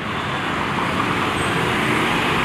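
Zhongtong TransJakarta bus moving through street traffic near Monumen Nasional, a steady broadband engine and road roar holding at constant loudness with no voices.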